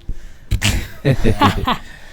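A person sneezes loudly and close up, a sharp burst after a brief intake of breath, with a short voiced trailing sound afterward, in a podcast studio setting.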